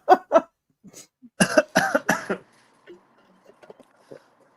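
Two quick coughs, then a burst of three harsher, heavier coughs close by, followed by faint breathing and small rustles.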